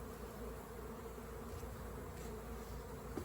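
Honeybees buzz around the entrance of a nuc hive set above a strong colony, a dense, steady hum close by with no voices.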